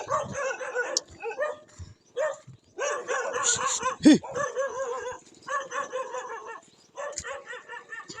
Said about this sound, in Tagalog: Kasi nahabol ako ng aso.